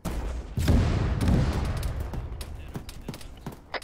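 Arma 3 battle scene with a main battle tank blowing up: a heavy boom followed by rolling rumble and scattered distant gunshots, with faint voices in the background.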